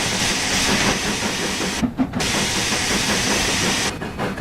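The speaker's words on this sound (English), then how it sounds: "whenever the boiler pressure gets above a certain pressure, that valve goes off to kind of relieve the strain" The safety valve of a steam locomotive in Train Sim World 3 vents with a loud, continuous roaring hiss, broken by two brief dips, with no voices.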